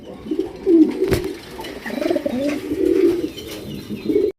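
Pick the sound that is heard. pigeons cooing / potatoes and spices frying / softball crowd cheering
pigeons cooing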